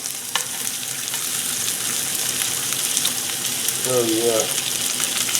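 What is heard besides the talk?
fat of Angus New York strip steak searing in pan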